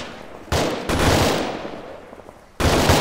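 Heavy automatic gunfire in the military shooter Arma 3, loud sustained bursts that roll and echo, fading briefly before another burst erupts near the end.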